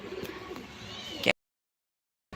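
Three pigeons in flight give soft, continuous cooing with faint flutter, fairly close, before the sound cuts off abruptly into silence.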